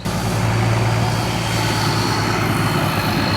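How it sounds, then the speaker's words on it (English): A boat passing on a river in Bangkok, a loud, steady low engine rumble close by, with water noise underneath. "We got another boat coming past now."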